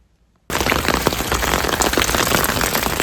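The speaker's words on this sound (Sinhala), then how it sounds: "මම ඔයාලට ඇහෙනවද දන්නේ නැහැ වැහි පොඩි සද්දෙත් එක්ක" Steady rain pours down after a sudden start, a dense, close hiss of drops drumming on surfaces with scattered louder spatters and no voices.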